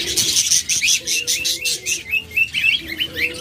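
A pair of pet cage birds chirping steadily in quick, bright bursts, near and fairly loud, with a softer low cooing or murmur underneath and no talk.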